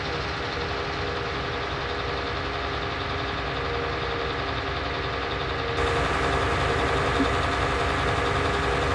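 Engine idling with a steady, buzzy drone like a two-stroke, constant and close throughout, stepping up slightly louder and brighter toward the end.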